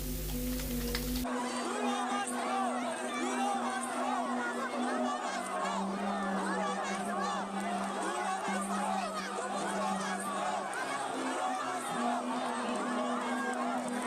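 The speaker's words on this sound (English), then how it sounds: "the crowd went wild. People jumped, shouted, and waved flags." A rowdy rally crowd at Uhuru Park roars in a dense, continuous babble of shouting and cheering, loud and sustained throughout, with a brief low tone at the very start.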